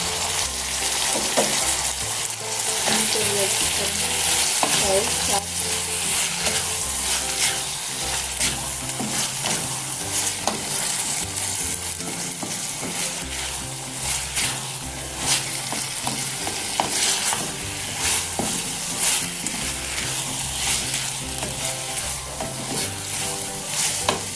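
Potatoes frying in a pan as small chopped tomato pieces are added, a loud continuous sizzle with frequent stirring scrapes and clatter throughout.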